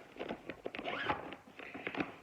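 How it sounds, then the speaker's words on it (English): Zippers on cross-stitch project bags rasp open and shut in short quick pulls, soft and close in a quiet room with no voices. "Sorry for the zippers."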